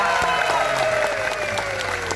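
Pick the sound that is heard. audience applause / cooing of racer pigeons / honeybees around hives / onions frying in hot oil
audience applause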